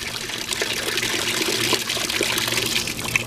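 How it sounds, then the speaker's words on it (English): About a gallon of water pours into a bucket for a car wash. The splashing and gushing is steady and continuous at close range, and nobody speaks. "what I'm doing is I'm going to put about a gallon of water in a bucket."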